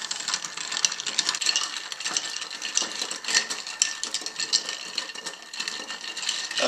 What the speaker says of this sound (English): you can just kind of get this rhythm where you're swirling everything in the glass without cracking all the ice